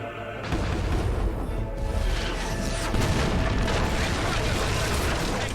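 A ship fires its cannons in the video game Fable III, producing heavy, rolling booms that merge into a loud continuous barrage, with a voice speaking under it.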